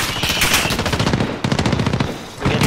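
Rapid automatic gunfire in the Call of Duty Warzone video game, a loud, close, continuous burst of shots with a short gap before firing resumes.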